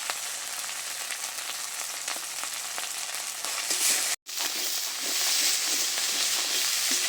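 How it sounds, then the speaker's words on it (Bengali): Spices with turmeric and chili powder frying in a pan, a steady loud sizzle with scraping stir sounds and a brief cut midway. "মশলাটা বেশ সুন্দর করে কষে নিয়েছি"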